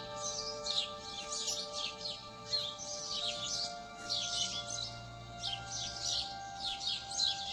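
Birds chirping and tweeting at dawn in a rural village, a steady chorus of small repeated calls over a faint, constant background hum.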